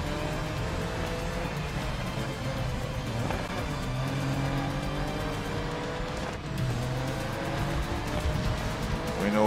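Race cars in the video game GRID Legends hold a steady, loud engine roar as they jostle and overtake. Rising and falling engine tones and some tire noise run without a break under a faint voice.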